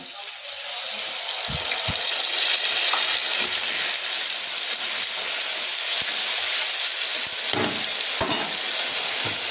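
Fried potatoes in a pan with ginger, onion and garlic paste added, a loud continuous frying sizzle broken by occasional spatula knocks and scrapes, close to the pan, with faint talk in the background.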